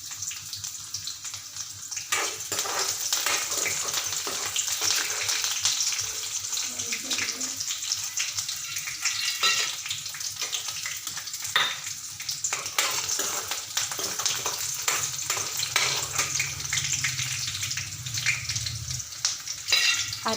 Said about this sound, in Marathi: कांदा व कढीपत्ता सोडणार आहे